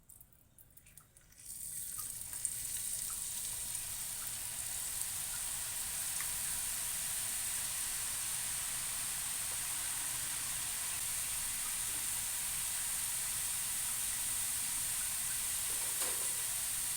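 Small rice flour ribbon jantikalu deep-frying in hot oil, a steady bright sizzle and hiss that starts after a brief quiet moment and continues evenly without talk.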